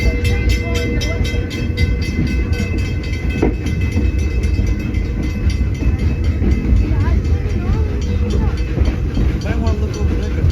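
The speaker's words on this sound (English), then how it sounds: "you can hear the train going" A train rumbles steadily past alongside a road on a heritage railway members' day, continuous and fairly loud, with voices talking faintly underneath.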